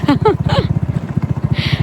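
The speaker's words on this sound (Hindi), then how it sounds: "तो ये मैं जा रही हूँ, ये मैं जा रही हूँ बाइक पे" Motorbike engine running at a steady, pulsing idle-to-cruise throb while a woman rides, close and continuous, with her voice talking over the start.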